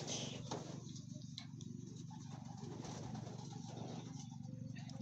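Racing pigeons at a loft coo softly and steadily, fairly distant and faint, with light ticking and rustling mixed in throughout.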